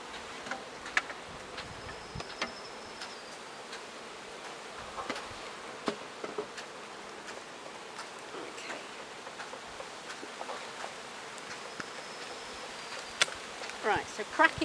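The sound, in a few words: honeybees buzzing around an opened beehive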